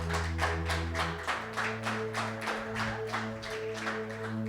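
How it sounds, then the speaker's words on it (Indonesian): A church congregation claps hands together in steady, rhythmic unison, loud and close, the beat carried over a sustained musical backing. "tepuk tangan."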